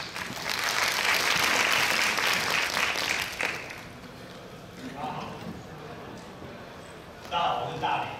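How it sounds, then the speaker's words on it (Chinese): Audience at the COSCUP 2016 tech conference clapping to welcome speakers, a burst of applause for about three seconds that then fades into quieter room noise with a few scattered sounds. "那请大家掌声欢迎他们。"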